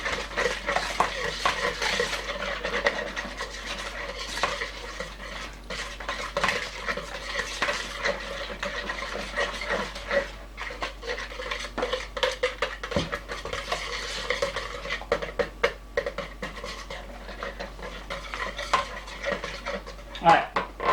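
Egg and spice mixture for French toast being whisked and stirred in a bowl, a steady busy clatter of utensil against dish running throughout, fairly close, with occasional sharper knocks and no speech over it.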